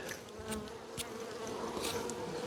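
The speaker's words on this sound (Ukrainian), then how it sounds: "Тут теж бджоли вже трошечки агресивні стають." Bees buzzing in a steady drone, with individual insects passing close by now and then, soft and continuous.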